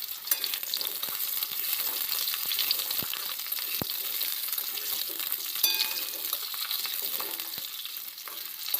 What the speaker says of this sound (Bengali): আলুগুলোকে এই তেলের মধ্যে একটু ভালো করে ভেজে নেব।